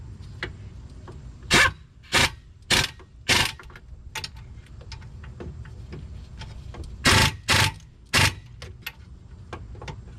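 Impact gun driving wheel hub bolts during a front hub bearing assembly replacement on a 2011 Nissan Altima, heard as several short loud bursts in two clusters with a steady shop hum underneath.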